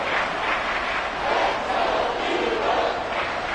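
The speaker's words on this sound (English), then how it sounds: "This crowd turning up the decibel level." A football stadium crowd at a Cowboys at Eagles game roars loudly and steadily, a broad sustained wall of cheering with no break.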